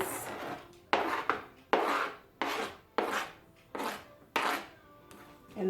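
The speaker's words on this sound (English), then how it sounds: "And then just mix it around." Cilantro and onions being mixed into salsa in a dish, heard as about seven rhythmic scraping, rubbing strokes of a utensil at roughly one-second intervals, close and fairly quiet.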